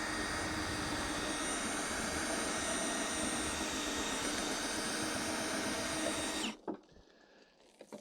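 A power drill with a 9/16 socket drives a Load Handler cargo unloader in a loud, steady whine that runs unbroken for over six seconds and then stops abruptly.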